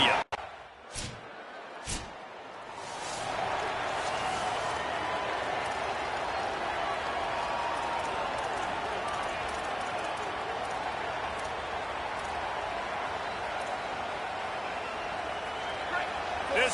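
Sustained stadium crowd roar at a college football game at Memorial Stadium in Bloomington, Indiana, a steady broad wash filling the whole stretch after a couple of sharp thuds at the start, with a commentator talking over it.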